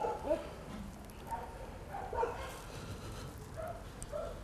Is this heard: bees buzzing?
no